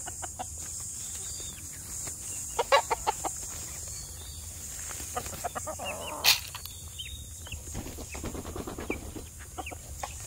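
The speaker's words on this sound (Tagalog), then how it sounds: "Patukan tayo ng tandang." A rooster and hens around a farm hut, with scattered clucks and short calls in bursts, one sharper squawk midway, over quiet background noise and no talk.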